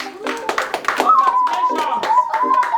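A small audience claps in a quick, uneven burst at an award celebration, with brief voices and a whistle-like tone sounding over the hand claps.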